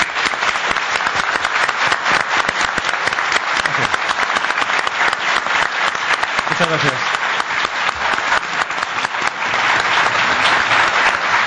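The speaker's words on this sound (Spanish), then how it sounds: "Por favor, un aplauso." Applause from a studio audience at a live videocast recording about the mysteries of Mazarrón, a dense sustained wash of clapping filling the room, with someone briefly speaking over it.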